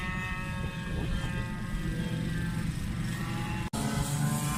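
Yamaha WR 50 mopeds passing in a pack during an 18-hour endurance race at Mortain, a continuous high buzzing engine drone at moderate distance with a brief cut near the end.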